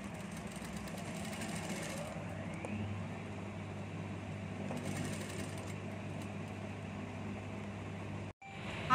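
A sewing machine stitches gota trim onto a sleeve of a small child's night suit, its steady mechanical hum running nearly the whole time before stopping abruptly near the end, with no talking.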